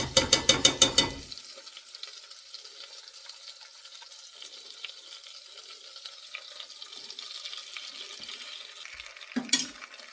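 A spoon stirs thick almond butter into a homemade granola mix, giving a quick run of loud, rhythmic scraping strokes for about a second before fading to a faint, quiet hiss.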